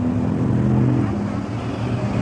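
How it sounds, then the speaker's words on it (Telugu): A tuk tuk auto-rickshaw in busy Bangkok street traffic gives a steady, close motor drone with a low engine rumble and no clear pass-by peak. "ఫేమస్ బ్యాంకాక్ ట్రాన్స్పోర్ట్లో టుక్ టుక్ ఒకటి టుక్ టుక్ ఆటో వెళ్తూ చూస్తున్నారా"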